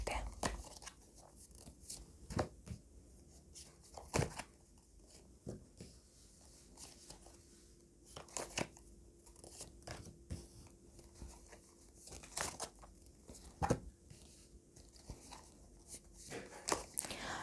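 Tarot cards shuffled and drawn from a deck during a pick-a-pile reading, giving soft, close papery flicks, slides and occasional sharper slaps at an irregular pace against a quiet background, with no talking.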